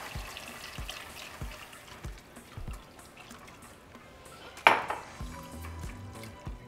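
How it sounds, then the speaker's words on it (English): Milk being whisked into flour and buttered vegetables in a pan, heard as a steady run of soft metallic clinks and scrapes of a whisk against the pan, with a louder clatter partway through. "now we're going to pour our milk and just whisk."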